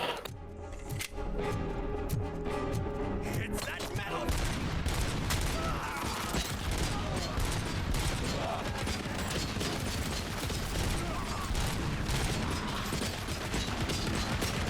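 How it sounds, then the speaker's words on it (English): Machine gun fire in Robocop: Rogue City, a dense continuous rattle of rapid mechanical shots that swells after a brief sparse opening and stays loud throughout, with faint voice underneath. "Oh shit, there's a machine gun up there."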